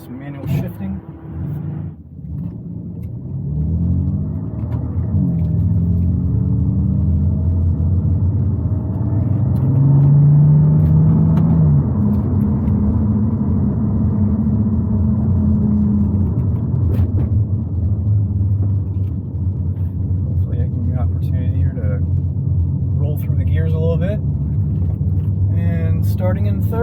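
A car accelerates hard in Sport Plus mode with traction control off and manual shifting, its engine rumble building steadily and loud with a rising tone through the gear, with someone talking over it.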